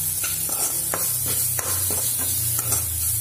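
Spinach and paneer gravy ingredients fry in hot tempering oil, with a steady close sizzle broken by repeated scraping stir strokes against the pan.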